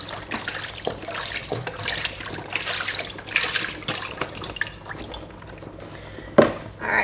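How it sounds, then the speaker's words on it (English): Beef stock poured into a pan of Swedish meatball sauce, a steady liquid trickle and splash running for several seconds, close and fairly quiet, with a sharper spill near the end and no talking. "So beef stock, I'm just going to add a little bit at a time."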